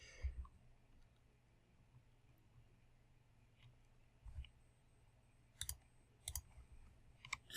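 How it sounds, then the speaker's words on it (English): Computer mouse clicks sound while working in 3ds Max modelling software, a handful of sharp, faint clicks spaced irregularly, some in quick pairs, over a quiet room hum. "I'm just right clicking all these dialogues"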